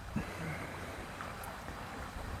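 Light wind blows outdoors as a steady, soft broadband rush with no voices, holding even throughout the short stretch.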